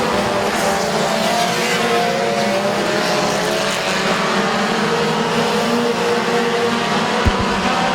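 Race cars roar around Midvale Speedway oval in a steady, loud engine drone, the pack passing continuously without letup.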